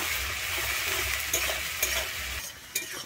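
Onion sliced with a little salt fries steadily in hot oil, a continuous close sizzle broken by a few sharp scrapes of stirring.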